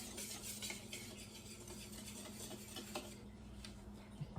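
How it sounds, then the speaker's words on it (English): Dry mix of flour, baking powder, salt and pepper whisked in a bowl, a faint continuous scraping and rustling stir with light metallic clinks, close but very quiet, no speech. "Then you want to whisk it to make sure that it's all incorporated."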